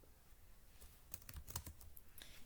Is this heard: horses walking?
no